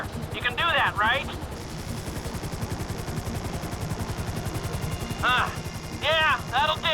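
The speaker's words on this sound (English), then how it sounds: "Just hold the chopper here." A helicopter hovers in Grand Theft Auto V, its rotor beating in a fast, steady rhythmic thump throughout, loud and close, while voices talk over it in short bursts.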